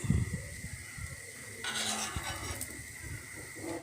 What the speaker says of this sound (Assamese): এইখিনি ভেন্দি লুটিয়াই দিছোঁ আৰু এইখিনি প্ৰায় মই আকৌ 2 মিনিটমান ভাজি ল'ম